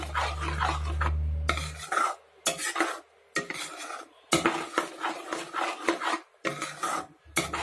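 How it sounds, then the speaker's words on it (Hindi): Spoon scraping and churning a mixture in a bowl while beating it light and fluffy, in repeated rough rasping strokes with brief pauses between, close and moderately loud, preceded by a low steady hum. "अच्छे से इसको मिक्स कर लीजिए और ये काफी फ्लफी टाइप का हो जाएगा"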